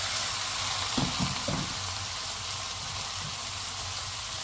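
Okra and masala with long-cut tomato sauté in a pan, giving a dense, even hiss of frying with a few brief stirring scrapes early on, close and steady.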